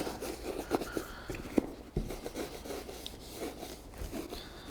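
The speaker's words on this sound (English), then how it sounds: "I'm just gonna kind of rub this in to the places I can't get with my finger." Conditioner is worked into a Red Wing 202 leather boot by hand. The quiet, uneven rubbing and brushing sounds come in close, irregular strokes with a few soft knocks, and there is no talking.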